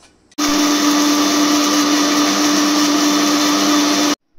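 Roasted spices are ground to a paste in an electric mixer grinder, a loud steady whine that starts abruptly, runs for about four seconds and cuts off.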